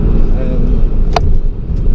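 Ford Focus ST3 tuned to about 335 horsepower, its engine roaring steadily while driving at night, a loud continuous low drone with a brief higher whine partway through.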